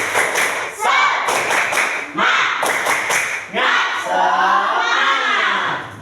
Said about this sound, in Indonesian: Sebentar, kita tepuk semangat saja.